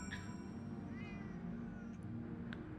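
A house cat meowing nearby, a couple of short soft meows over a low background hum, faint and without talk.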